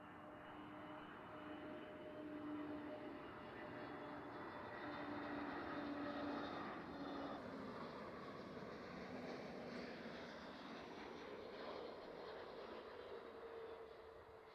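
An airplane at Edinburgh Airport is heard from a distance as a broad, steady engine roar that swells and fades over several seconds, with a faint whine, heard on its own without talk.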